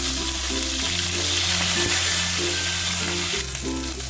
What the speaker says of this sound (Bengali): এবারে আমি দিয়ে দিচ্ছি আরও দুটো মাছ ওই একই রকমভাবে আমি ভেজে নিলাম